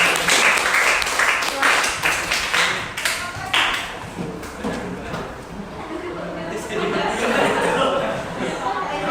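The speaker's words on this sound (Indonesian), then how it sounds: "Ya, beri tepuk tangan." Classroom audience at a teaching-practice lesson claps in a burst of scattered applause during the first few seconds, then fades under ongoing talk and chatter.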